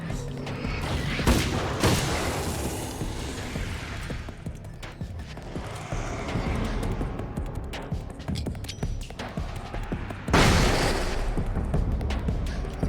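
A flashbang grenade detonating in the video game Alan Wake: American Nightmare, a dense booming roar with crackling debris that swells again near the end, loud and continuous with no talk over it.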